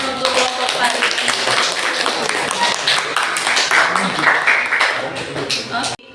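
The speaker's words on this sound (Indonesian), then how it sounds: "Tepuk tangan untuk kelompok Faris." A classroom of students claps for a student group in a lively burst of dense, overlapping clapping that runs steadily before cutting off abruptly at the end, with some voices mixed in.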